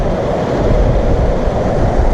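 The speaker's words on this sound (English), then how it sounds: "Here's another amazing waterfall." Waterfall on a river near a slate mine in Yorkshire, a loud, dense, continuous rushing roar of falling water close by, with some wind buffeting the microphone.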